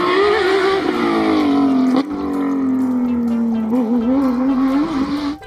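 A toy race car gives off a continuous whirring motor whine whose pitch slides and wavers, with a brief clunk partway through. It sounds close and loud, and there is no talk.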